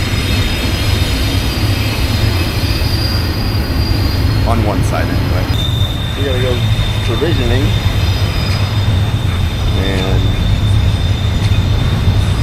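A train passes near a boat slip in a marina, its steady rumble and squealing wheels running throughout, with people talking over it.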